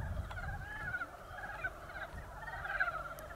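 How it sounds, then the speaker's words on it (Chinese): Many toads croak together in a small roadside water-filled ditch in the hills in spring, forming a faint, continuous overlapping chorus of throaty calls that rises and falls, with no voices. "这个听着蛤蟆叫的声音非常多"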